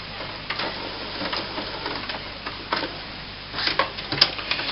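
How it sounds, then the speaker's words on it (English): HP inkjet printer (C5380/C6300/C6380 class, HP 364 cartridges, brand new) printing a page: steady mechanical whirring and shuffling with soft clicks, busier rattling and a sharp clack near the end, close by with no talk. "there you can see it's printing"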